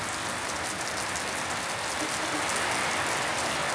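Steady rain pours down outdoors with a dense, even hiss of drops on surfaces, loud and unbroken throughout, no voices.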